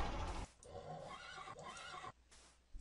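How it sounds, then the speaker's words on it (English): A horse in Minecraft with the More Mobs mod lets out a loud, clear whinny lasting about two seconds, followed by quieter game ambience. "Oh, and there's a horse up there."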